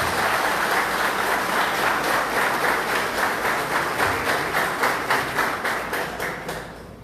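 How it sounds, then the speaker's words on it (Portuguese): An audience at a solemn municipal council session in Capinzal applauds the honorees with steady, dense clapping from many hands that slowly fades at the close, with no voices. "Uma salva de palmas aos nossos homenageados."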